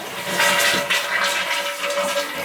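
A household toilet flushes up close, a steady rushing swirl of water filling the bowl for the whole stretch; the toilet has a running-water fault.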